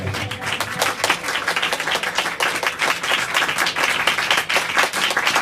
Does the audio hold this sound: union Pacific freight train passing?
no